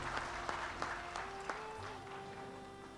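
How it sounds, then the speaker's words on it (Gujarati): Scattered applause from a community gathering marking a Jain association's fiftieth golden-jubilee year, a few sharp claps over a steady hum and a faint sustained tone, fairly quiet and thin rather than a full ovation. "આપણે તાળીઓ પાડીએ"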